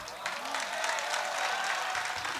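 An audience at a Hindi poetry recital, a kavi sammelan in Shujalpur, applauds in a dense, steady wash of clapping that continues throughout, with a murmur of crowd beneath.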